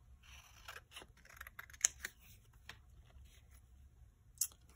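Scissors cut through a paper picture to trim it for an art journal page, giving a few quiet crisp snips and rustles, with two sharper clicks standing out against a faint background.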